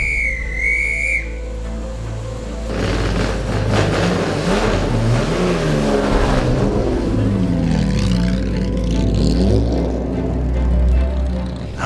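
A D-Type Jaguar's 3.8 litre engine revs loudly and steadily with a deep rumbling roar, preceded by a brief high whistle at the start.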